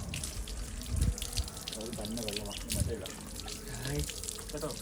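Running tap water splashing steadily into a basin, with a voice and adult talk over the flow.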